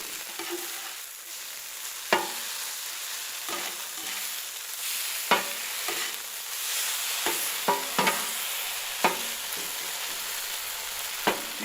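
Barbecue pork with barbecue sauce sautéing on a griddle, a steady soft sizzle throughout, broken by sharp scrapes and clacks of a spatula stirring it every second or two, close and without talk.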